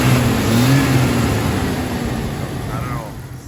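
A Jeep XJ Cherokee engine, checked for a bucking and stalling fault, revs up close by with a steady mid-pitched roar; a voice talks briefly over it at the start.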